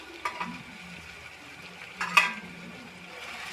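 Prawns deep frying in oil: a soft, steady sizzle with a couple of sharper clinks and scrapes from stirring, fairly quiet and close, without speech.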